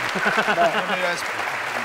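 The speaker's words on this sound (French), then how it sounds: "On pourrait peut-être applaudir notre ami" Studio audience applauding on a French television talk show, a short burst of clapping that runs under overlapping voices and cheerful chatter throughout.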